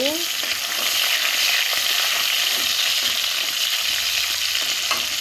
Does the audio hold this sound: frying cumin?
yes